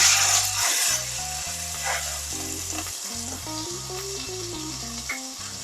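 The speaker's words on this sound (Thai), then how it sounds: "เราจะต้องผัดพริกแกงให้หอมนะคะ" Massaman curry paste stir-fried in a pan over moderate heat, its hissing sizzle strongest at first and continuing under melodic background music.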